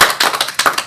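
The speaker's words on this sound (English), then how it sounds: "If we could give Bethany a round of applause" A few quick, close claps at the end of a technology session on AI, sharp and uneven, with gaps between them over less than a second.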